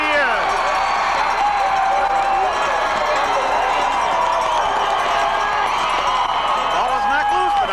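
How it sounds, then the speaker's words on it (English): A Turtle Lake crowd at a 1988 Division 6 state final football game against Oakfield roars after a touchdown, a sustained loud wall of cheering and shouting with voices talking over it. "you can hear from the roar of this Turtle Lake crowd that Turtle Lake scored a touchdown"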